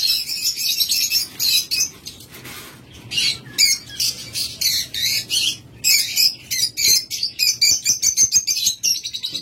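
Pet birds chirp and squawk in rapid, bright bursts, several calling close by in quick overlapping bouts with short pauses between.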